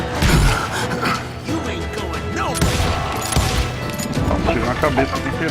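Gunshots in the video game Call of Juarez: Gunslinger, scattered sharp shots and impacts amid game effects, with someone talking over them.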